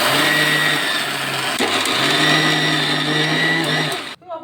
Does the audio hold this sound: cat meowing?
no